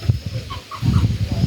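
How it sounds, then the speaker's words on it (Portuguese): Young chickens, a brood of five, cluck in soft, repeated short calls close by, with a brief lull midway before the clucking picks up again and continues. "São 5 frangos"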